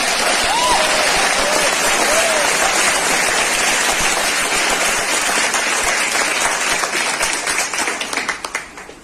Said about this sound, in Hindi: एक बार जोरदार ताली साथ आसाम की